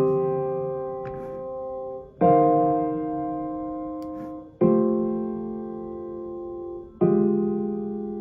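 Four sustained piano chords struck a couple of seconds apart while the compressor release moves from very fast to very slow, each ringing with a squeezed, compressed tail that swells or recovers between strikes.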